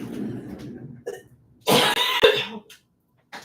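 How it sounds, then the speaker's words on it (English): A person coughs in a few harsh, throaty bursts, close and loud, preceded by some quiet vocal noise and followed by silence. "I'm gonna cough it out."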